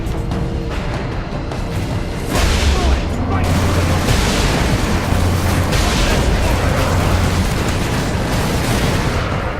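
Heavy weapon fire and explosions from Warhammer 40,000: Space Marine, including lascannon shots, a sustained loud roar of blasts and rumbling booms that swells after a couple of seconds and stays dense throughout.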